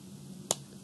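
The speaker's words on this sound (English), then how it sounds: "Then you clap" A single crisp hand clap in the cup song, one short close snap alone against quiet room tone.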